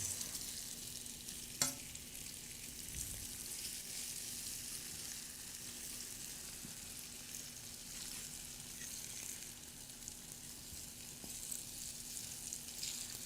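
Eggplant fries sizzle in a pan with a steady, quiet crackle, briefly interrupted by a sharp clink as the pieces are flipped, and no talking.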